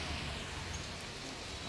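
Heavy rain pours down on a street in Saigon as a steady, dense hiss of falling water throughout, with no talking.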